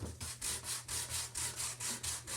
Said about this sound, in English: So you just go sand it all over.